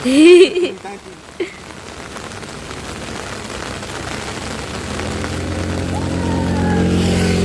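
Rain falls during a fishing trip in Goa, a soft steady hiss that swells louder over the last few seconds, after a short burst of voice and a brief knock near the start.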